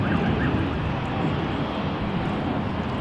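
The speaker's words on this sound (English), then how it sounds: "Emirates Sky Cargo is on the move." An Emirates SkyCargo jet moving at Sydney Airport, a steady broad engine roar heard from a distance, continuous and fairly loud with no talk.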